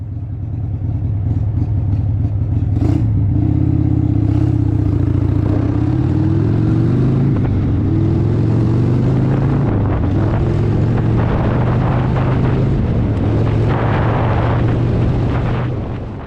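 A Harley-Davidson motorcycle is ridden for about sixteen seconds, its loud engine note rising and falling as gears shift, with a steady roar of wind buffeting the microphone throughout.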